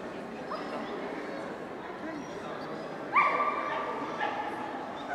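Dogs yipping and whimpering at a national dog show held in a stadium arena in Shymkent, heard faintly under a narrator's voice, with a sharper bark or yelp standing out near the middle.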